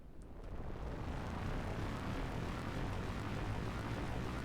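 Steady, loud spaceship engine roar from a space-flight video game, a broad rumbling drone with a dense low-end that swells in over the first second and then holds constant without a break.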